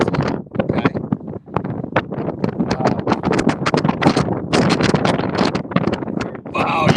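Strong wind buffeting an outdoor microphone on a path, a loud continuous roaring rumble with gusty fluctuations that nearly masks a person talking throughout.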